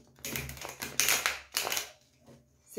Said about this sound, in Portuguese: Embaralhar aqui o tarô.